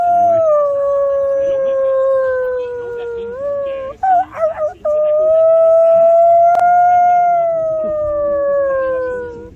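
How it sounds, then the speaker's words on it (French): Coyotes give a long, loud, wavering howl that breaks briefly into yips midway, then resumes as a sustained howl, heard up close. "Les coyotes."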